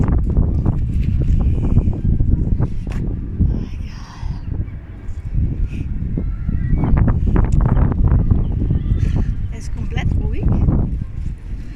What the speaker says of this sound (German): Bis auf die Möwen.